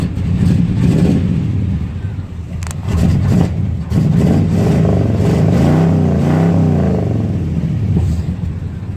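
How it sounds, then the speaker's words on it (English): Box Chevy Caprice engine revving on a below-freezing cold start, loud and close, with several deep rumbling throttle blips that rise and fall over a rough idle. "Hit this gas a couple times real quick."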